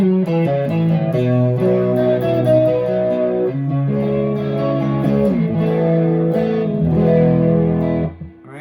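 Electric guitar, a Telecaster, played through a Boss distortion pedal, rings out in sustained, overdriven chords and notes, loud and alone, ending in a quick cutoff.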